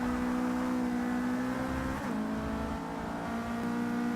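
A Mercedes-Benz 190E race car in Forza Motorsport 6 holds a steady engine drone at a near-constant pitch, with a brief dip around the midpoint before it settles back into a sustained hum. No voices are heard.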